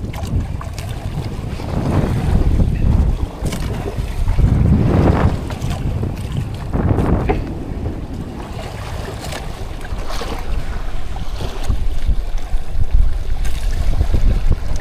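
Strong wind buffets a fishing boat at sea, a steady loud roar with rumbling gusts and wind noise hitting the microphone, mixed with water and hull sounds throughout.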